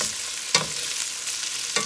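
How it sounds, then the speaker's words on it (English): Meatballs for a meatball sub frying in a little olive oil at the bottom of a pan, a steady bright sizzle broken by two brief scraping bursts as they are moved. "I did put a little bit of olive oil down on the bottom to fry these up first"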